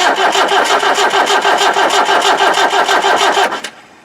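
A 1991 ex-MOD 90 with a 2.5 naturally aspirated diesel cranks steadily on the starter without catching, a loud rhythmic churning of regular compression pulses for about three and a half seconds before it cuts off abruptly into near silence.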